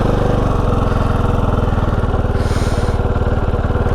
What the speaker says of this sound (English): kill switch out, and we are turning the bike on